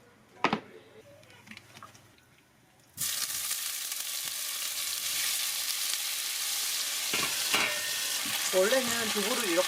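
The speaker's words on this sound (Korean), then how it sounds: "저는 두부가 부서질까봐 한번 튀기듯이 이렇게 한 다음에 그 다음에 볶으려고요" Tofu drops into hot oil in a pan for mapo tofu, setting off a loud, steady sizzle that continues unbroken, with occasional utensil clicks and stirring after some quieter kitchen sounds.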